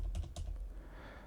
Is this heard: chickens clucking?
no